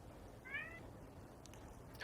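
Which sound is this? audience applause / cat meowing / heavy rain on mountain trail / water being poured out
cat meowing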